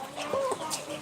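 Chickens cluck close by in a short burst of a few quick, throaty calls, with no talk over them.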